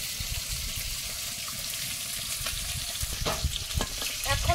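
Koi fish from a pond frying in a pan in a home kitchen, giving a steady close sizzle with occasional stirring scrapes and faint water sounds, no voices.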